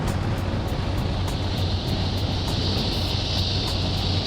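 A Porsche 928S cruises along a freeway at around 2,100 revs with the windows up, giving a steady low engine drone blended with road and wind roar, continuous and unchanging, with a faint high whine from cicadas outside.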